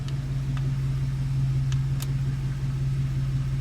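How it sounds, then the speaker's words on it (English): A car engine idles steadily during an electrical check with the alternator, a constant low mid-pitched rumble that runs unbroken throughout, with a few faint clicks over it and no talk. "But this time do it at idle. Just let it idle."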